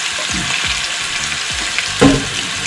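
Seasoned chicken searing in a hot pan over high flame for Moroccan spicy saffron chicken, giving a loud, continuous close sizzle with a brief sharper burst partway through.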